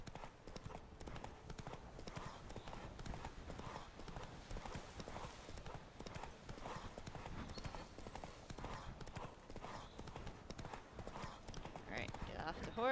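Horse hooves clip-clop steadily while riding in The Witcher 3 video game, a quiet, even rhythmic trot sustained throughout, with speech over it.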